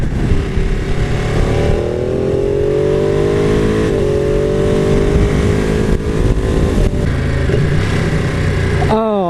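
A Ducati 959 Panigale motorcycle engine revs loud and close, its pitch climbing and dipping through several throttle pulls, with a sharp blip at the end.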